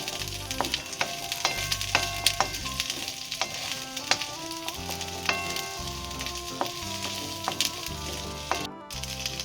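Onions lightly frying in white oil for a cauliflower roast, a continuous sizzle with scattered crackles and stirring scrapes, while background music with tonal notes plays throughout.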